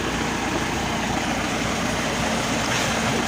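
A YuMZ tractor strains to pull a DBN 2.1 disc harrow through a sunflower field, giving a continuous dense engine roar at a constant close level.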